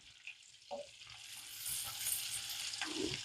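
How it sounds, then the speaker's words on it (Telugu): Small pieces of garlic frying in oil for a spinach gravy curry: a faint, quiet sizzle that swells into a steady hiss, with a couple of light clicks and no talking. "ఇవి మంచిగా బ్రౌన్ అయ్యేంత వరకు ఈ ఆయిల్లో వేపుకోవాలండి"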